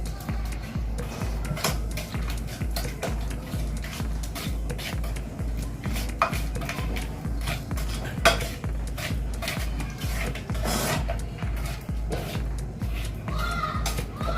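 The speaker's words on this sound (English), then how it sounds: "Just mash the bananas properly and mix all these 3 things together properly." Bananas mashed and cake batter mixed in a bowl, a fast regular tapping and scraping of utensil against bowl repeating steadily, close and moderately loud, with no voices.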